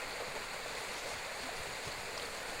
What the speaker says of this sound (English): The burn has a strong flow, so that it's not surprising to learn that this little stream once supported 3 water